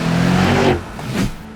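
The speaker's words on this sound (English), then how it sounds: "It makes a deep, throaty noise" A 2025 Mercedes S63 AMG engine lets out a deep, throaty rumble that rises, dips, then swells again briefly.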